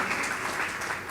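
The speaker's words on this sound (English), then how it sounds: "Can we have a huge round of applause?" A conference audience at a social media week event in Mumbai gives a short burst of applause for Suhail Seth, moderately loud and continuous.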